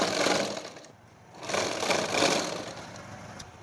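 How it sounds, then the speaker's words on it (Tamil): A sewing machine stitches a blouse seam in two steady whirring runs split by a short pause, its motor hum and needle clatter close and fairly loud, with no talking. "இன்னொரு தையல் போட்டுக்கலாம்."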